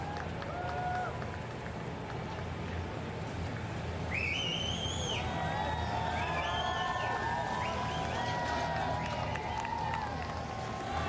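Crowd cheering and whistling as the Queen's hearse passes, a broad sustained roar of many voices with scattered whistles rising over a steady outdoor murmur, with a voice talking over it.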